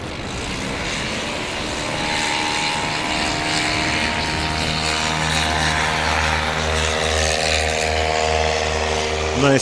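A propeller aircraft at a Swamp STOL practice event in Jennings, Louisiana, powers up for a short takeoff, its loud, steady engine drone rising in pitch as it accelerates, with faint voices in the background.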